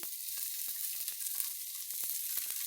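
Chopped onion, ginger, garlic, capsicum and carrots fry in hot oil with a steady soft sizzle, broken by quick crackles and pops as they are mixed. No one speaks.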